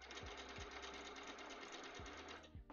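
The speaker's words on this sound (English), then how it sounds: "we're just satin stitching along these patches." A sewing machine satin stitches along cosplay patches, with a fast, steady mechanical whir and rapid needle clatter running continuously at close range and fairly quiet level.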